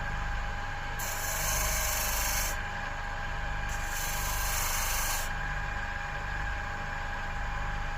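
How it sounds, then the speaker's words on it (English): Rough abrasive rubbing as pieces of homemade isolation feet are sanded flat, a steady close scratchy rasp running throughout, with two brighter, harsher bursts of heavier strokes. "We want to sand these pieces off round here, okay, because we want to flatten it there."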